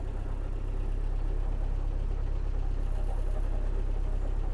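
A cold Mercedes car engine idles steadily with a constant low rumble, close and continuous throughout with no talk over it.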